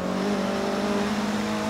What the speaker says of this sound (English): It's revving the little Mazda.